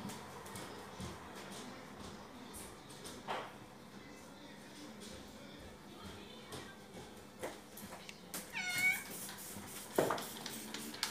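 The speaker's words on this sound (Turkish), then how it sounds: "Arkadaşlar kedi de geliyor." A cat meows a few times against a quiet indoor background, with scattered clicks and knocks; the clearest meows come near the end.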